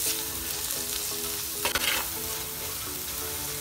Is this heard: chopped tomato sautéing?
yes